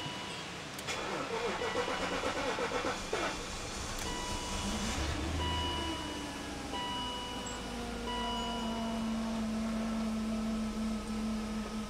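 A car engine idles steadily with a low hum and a rising whine after a scare with the car, with a brief clatter near the start; faint talk is mixed in.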